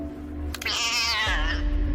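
An injured cat meows loudly and close, one long drawn-out wail with a rising then falling pitch, over a low background hum.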